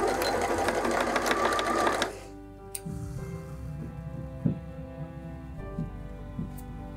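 An old Janome sewing machine running in a home sewing room, a loud steady mechanical whir and rapid needle chatter for about two seconds, then it stops, leaving a faint hum with small clicks.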